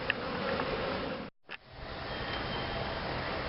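Honeybees swarming around a hive, a dense steady buzz that drops out briefly for a split second before returning at full level, close and alone.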